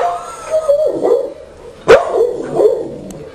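A fearful, conflicted dog gives a few sharp, close barks with whimpery yips between them, uneven and tense, against a quiet room.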